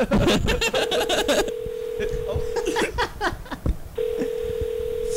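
A phone gives off a steady electronic tone in two stretches, with a short gap between them, over lively laughter and nearby chatter.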